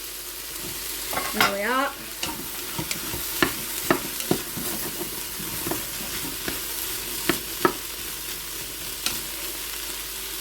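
Sliced courgette and halved mushrooms sizzle in a hot pan with a steady frying hiss, while a utensil scrapes and taps through repeated stirring strokes close by. A voice speaks briefly near the start.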